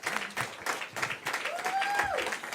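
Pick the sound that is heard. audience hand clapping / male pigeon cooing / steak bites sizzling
audience hand clapping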